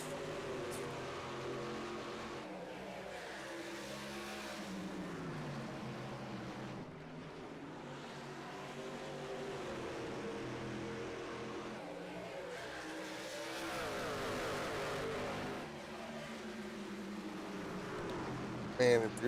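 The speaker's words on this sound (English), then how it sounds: "And if you're Jay, you just got to keep that truck right with him" Racing trucks lap the Richmond track in a race series, a continuous layered engine drone rising and falling as they run, heard under race commentary throughout.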